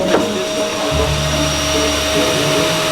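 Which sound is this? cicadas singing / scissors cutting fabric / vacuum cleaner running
vacuum cleaner running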